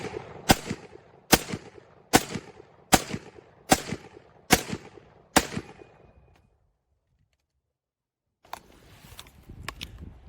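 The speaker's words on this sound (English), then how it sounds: "It shoots a .45 caliber handgun round" A Colt 1911 pistol fires .45 caliber handgun rounds: seven loud, sharp shots at a steady, roughly one-per-second pace, each with a short echoing tail, then silence and some faint clatter.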